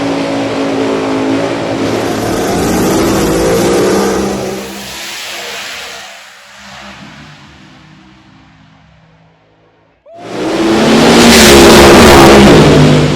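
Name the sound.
funny car drag racing run, Maximum Overdrive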